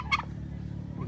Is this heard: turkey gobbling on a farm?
yes